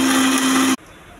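A mixer grinder blending coconut, peanuts and cumin whirs loudly and steadily up close with a tonal hum, then cuts off abruptly, leaving near silence.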